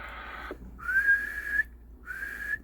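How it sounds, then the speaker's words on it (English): A person practising whistling blows a few sustained, wavering high tones in two or three short phrases separated by brief pauses, close and fairly clear, with no talking. "If I knew how to whistle, I'm learning, I'm improving"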